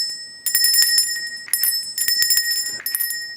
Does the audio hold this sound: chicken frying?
no